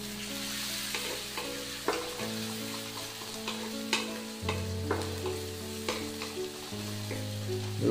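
Garlic frying in hot oil for a mushroom dish, a close steady sizzle with intermittent stirring scrapes and clinks, continuous throughout without voices.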